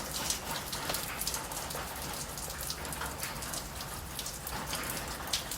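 Heavy rain pours steadily, a dense hiss of drops hitting surfaces close by, constant and loud with no voices.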